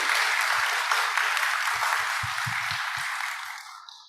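An auditorium audience applauds a panel at an AI and urban climate event in a sustained, even roar of clapping that tapers off at the end, with a few low voices murmuring underneath.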